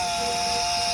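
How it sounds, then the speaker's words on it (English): A steady, high-pitched whine of a power drill pre-drilling a pilot hole for self-tapping screws, running continuously for about a second, loud and close. "So what I've started doing is pre-drilling the holes before using the"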